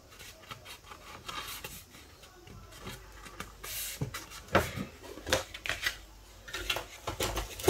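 Thick scrapbooking paper crinkles, rubs and creases softly as it is folded into a camera bellows, giving close, irregular crackles and scrapes that grow a bit louder toward the end.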